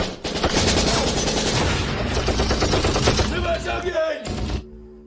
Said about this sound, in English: the Polish troops who had been on standby opened fire, forcing them to retreat